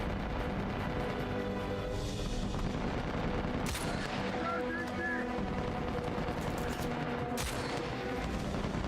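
Sniper rifle and other gunfire in the video game Uncharted 4, with sharp shots cracking out around 3.7 and 7.4 seconds over a dense, continuous backdrop of battle noise and rumble.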